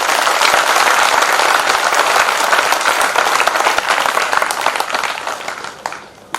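Loud applause from a large Hindi poetry-recital crowd, front rows to back, a dense continuous roar of clapping that holds strong before thinning out near the end.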